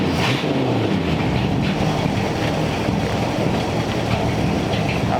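A 1934 Ford Tudor hot rod with a new exhaust idles in a dense, steady rumble that runs unbroken and fairly loud, with no voices over it.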